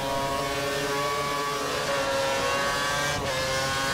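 Racing cars roaring along a track, a Ferrari and a Mercedes among them, with a steady loud engine drone and rising and falling tones as cars pass closely.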